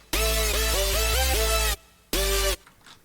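A Nostalgia 64 style synth bass lead, unprocessed, plays a bright buzzy phrase of several gliding notes over a deep bass, stops briefly, then returns for one more short note before fading.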